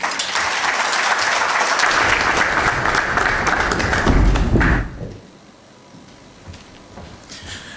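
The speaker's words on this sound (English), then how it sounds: "Let's give another round of applause." Applause from an audience at the official launch of East Africa's Got Talent in Kenya, a loud, dense burst of clapping with a few thumps that fades sharply after about five seconds into a quieter room.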